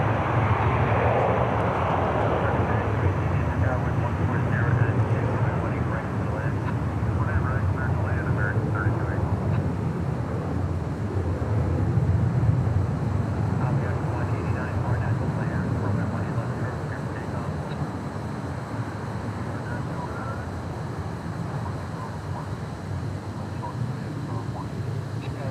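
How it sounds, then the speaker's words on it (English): An Airbus A321 takes off from runway 18 Left at Dallas Fort Worth, a continuous, moderately loud engine roar that swells slightly in the middle and then eases as it climbs away. "Seeing this A321 take off on 18 left."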